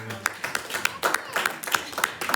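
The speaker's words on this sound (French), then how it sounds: "Est-ce qu'on peut applaudir lui" Congregation clapping at a French-language church service, sharp claps falling in a steady rhythm close by with voices talking underneath.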